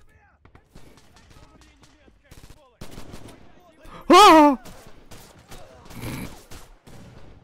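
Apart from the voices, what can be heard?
gunfire in a video game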